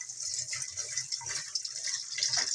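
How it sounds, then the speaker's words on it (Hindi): Water runs steadily from a tap over cooled green peas sitting in a metal strainer, a continuous close splashing hiss with no pause throughout. "छन्नी में डालकर इसके अंदर मैं थोड़ा पानी डालती रहूँगी ताकि ये अच्छी तरह ठंडे हो जाए।"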